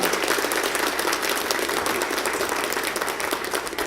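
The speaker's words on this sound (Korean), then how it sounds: "박수를 좀 힘차게 보내주시기 바랍니다" A church congregation gives loud, vigorous applause at a church anniversary service, dense continuous clapping filling the room with a few louder individual claps standing out.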